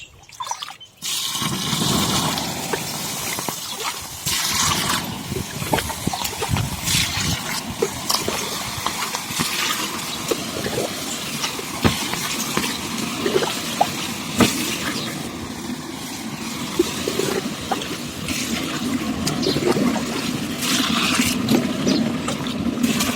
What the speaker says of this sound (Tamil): நான் வந்து தண்ணி தான் ஊற்றுறேன் அது எப்படி கொதிக்குங்கிறது நீங்களே பாருங்கள்